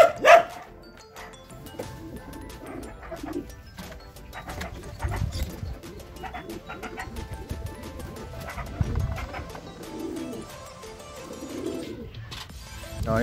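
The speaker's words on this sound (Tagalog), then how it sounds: "So ayun mga kalapatids, dumating na nga si Tepo natin" A racing pigeon returns home to its loft after a 140 km fun race, with bird cooing and fluttering mixed with a dog barking nearby, plus scattered background bustle.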